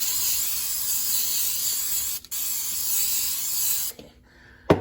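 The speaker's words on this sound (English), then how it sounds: "this is coconut cooking spray from Dollar Tree" A steady hiss of a coconut cooking spray can spraying close up, with a brief pause midway and a short burst near the end.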